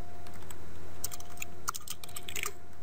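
Keys clacking on a computer keyboard while a command is typed into a Cisco ASA 5510 firewall's command line, a quick irregular run of close, crisp taps over a steady low hum.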